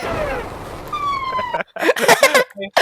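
A siren wails in the Roblox horror game Insane Elevator, its steady tone sweeping through the first part before it cuts off and excited shouting takes over.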